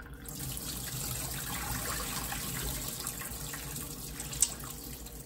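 Water runs and pours over maize kernels while preparing white atole, a continuous tap-like stream with light splashing and one brief clink near the end, no speech.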